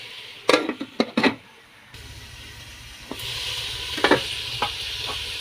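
Arroz caldo stirred in a pot, with a cluster of sharp scraping knocks at the start, then a steady simmering hiss and a few more stirring clinks, close up.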